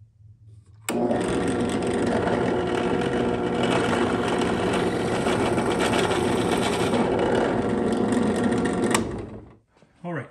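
A power drill with a 1/4 inch bit bores a pilot hole into wood for a T-bolt on an antler towel rack, a loud, steady whirring grind that runs for about eight seconds and then winds down.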